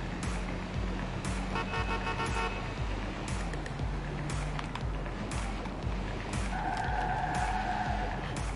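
A car in the video game Watch Dogs 2 skids hard with sustained tire squeal and engine roar, loud and continuous over the whole stretch, and horn-like tones sound toward the end.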